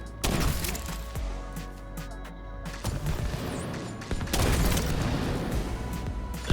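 Gunfire in the video game Division 2, with dense bursts of shots and sharp cracks layered over game effects and impacts, loud and close, continuing across the whole stretch.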